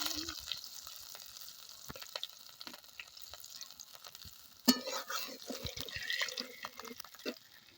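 Whole cumin seeds with small and large cardamom crackling in hot ghee, a soft sizzle that jumps louder after a sharp clatter midway, then bubbling and stirring sounds up close.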